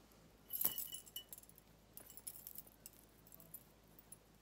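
A scissor fob with bee-shaped scissors and added bling jingles and clinks as it is handled, a short bright burst followed by softer scattered clinks, close and quiet.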